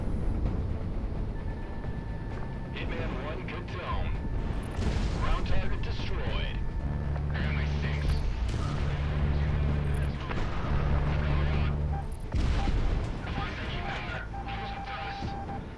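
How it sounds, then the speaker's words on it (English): Tanks rumble and fire in a combat video game, with heavy low engine drone running throughout and repeated booming cannon shots and blasts landing every couple of seconds, loud and close, under a busy mix of battle sounds. "Man, those tanks are hauling butt."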